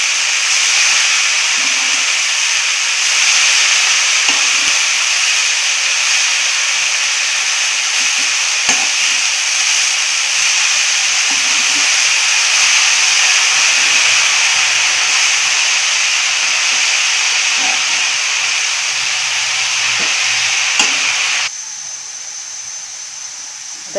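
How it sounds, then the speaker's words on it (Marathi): A steady, loud hiss of dill and moong dal cooking in a pan runs throughout, with a few faint knocks from stirring, then drops sharply to a quieter hiss near the end. "एक दोन मिनिट चांगली अशी हलवून घ्यायची।"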